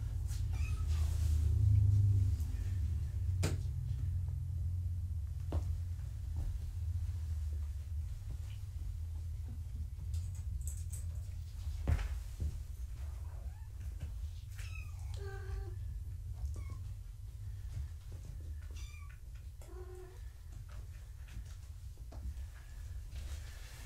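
A mother cat and her kittens make faint, high squeaks and meows scattered over a steady low rumble of background noise, with occasional soft clicks and knocks.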